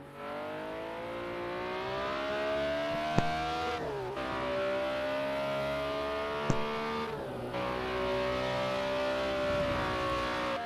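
A BMW M1 Procar race car engine in Project CARS 2 at Sakitto GP holds a loud, steady high-revving drone, with two sharp gear shifts breaking the tone before it climbs again.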